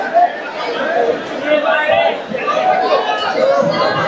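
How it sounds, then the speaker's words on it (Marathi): Busy fish market crowd, a loud, continuous babble of many overlapping voices close by, with one voice talking over the hubbub. "की गर्दी आहे आणि इतका आवाज आहे."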